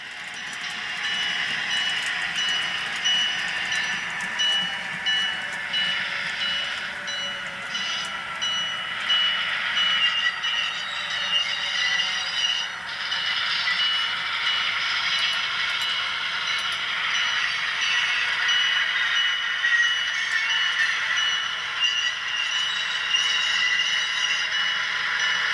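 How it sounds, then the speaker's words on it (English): A Southern WNC passenger model train pulls into the Asheville station on a club's model railroad layout, giving a soft, steady rolling rattle and faint clatter of small wheels on track that continues for many seconds without talk. "Here we see the train arriving at the Asheville station."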